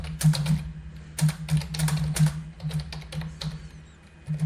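Computer keyboard keys tapped in short irregular bursts while JavaScript code for a login form is entered, close and fairly soft over a low steady hum, with no talking.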